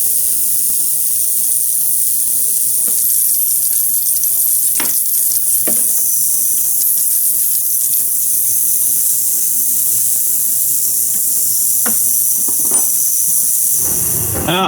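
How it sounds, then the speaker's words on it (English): An ultrasonic cleaner cleans a TS400 carburetor, giving a steady high hiss and a low hum throughout, with occasional faint clicks and knocks nearby. "I might have to get myself a new ultrasonic cleaner"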